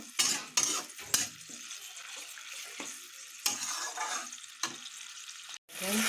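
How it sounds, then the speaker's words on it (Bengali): Egg curry gravy boils in a pan, sizzling and bubbling, with a few sharp stirring clatters standing out over a steady hiss. "ঝোলটা কি সুন্দর ফুটছে"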